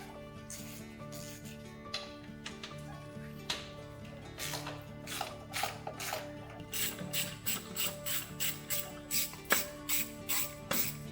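An Icon G2 stubby ratchet backs out valve cover bolts on a Subaru Sambar, with quiet irregular clicking that turns into steady close rhythmic ratcheting bursts near the end.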